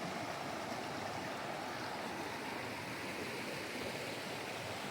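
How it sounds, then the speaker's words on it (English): The White River flowing, a steady broadband rush of water heard close and continuous, with no voices over it. "I'm pretty sure it's the White River."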